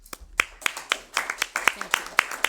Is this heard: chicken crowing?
no